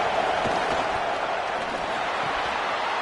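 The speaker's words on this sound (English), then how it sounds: "This crowd is trying to inspire this defense to make a big red zone stop." Steady stadium crowd roar in a college football video game during a red zone defensive stand, a dense, continuous wash of noise holding at an even level with no distinct voices standing out.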